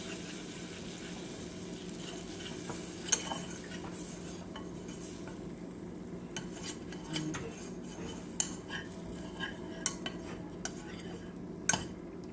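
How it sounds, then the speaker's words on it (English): Melted butter and flour are whisked together into a roux for homemade gravy; soft scattered clicks and scrapes of the whisk against the pan sit over a steady low hum, with no one talking. "I'm just going to mix that in until it thickens"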